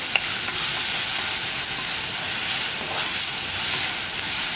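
Sliced onion sautés on high flame for mango curry, giving a dense, continuous hissing sizzle with faint stirring, steady and fairly loud from start to end.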